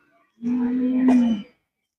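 A single Kangayam calf at a cattle market gives one loud, close moo lasting about a second, with steady tone and no talk around it.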